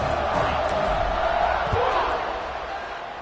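Stadium crowd noise in College Football 26 during a Michigan State versus Boston College game, a steady broad roar of cheering that fades slightly toward the end, with a commentator talking over it.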